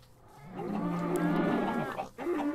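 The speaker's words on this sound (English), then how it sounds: "We've got four cows, I'll leave them." Cows mooing in Minecraft: a long, drawn-out low moo fills most of the moment, followed by the start of a second call, loud and close with no talk over it.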